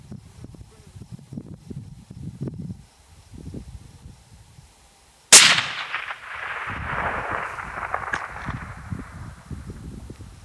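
A rifle fired at a long-range target outdoors: one sharp, loud crack followed by a long fading rumble, with wind buffeting the microphone before and after.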